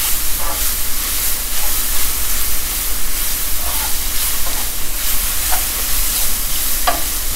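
Mushrooms sizzle steadily in a frying pan as they brown, a dense continuous hiss close by, broken by a few light scrapes of stirring.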